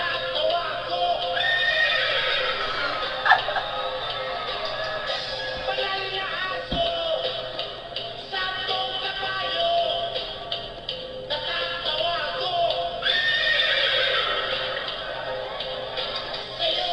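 A woman on a televised talent show imitates a horse neigh with her voice, a long, loud, shaky whinny that rises and falls continuously over steady background noise.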